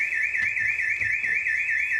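An alarm wails at a burgled house in Nanteuil, a continuous warbling electronic tone cycling steadily and heard from a moderate distance, with no talk.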